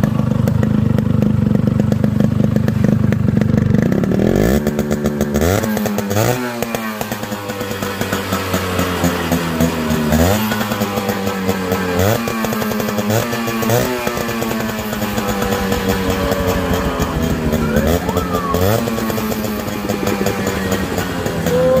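A modified Yamaha RX 100 two-stroke motorcycle, with a new zero-bore cylinder and piston, idles with a raspy buzz and is then blipped repeatedly, each rev sweeping sharply up and falling back, close and loud.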